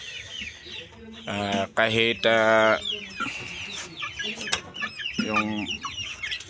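Backyard chickens clucking and squawking close by while being fed in the morning, with bursts of loud, rhythmic calls and scattered chirps, under someone speaking briefly.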